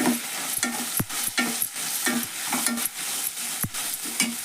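A spoon stirring sprouted moth bean curry with turmeric powder in a pan, rhythmic scraping strokes with sharp clicks against the metal over a soft, steady sizzle, close and clear.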